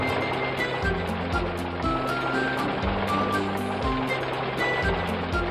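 A concrete mixer truck on a construction site sounds steady reversing beeps, regularly spaced and loud, over a continuous low engine rumble.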